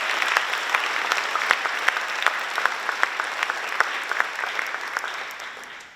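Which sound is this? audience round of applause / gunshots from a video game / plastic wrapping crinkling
audience round of applause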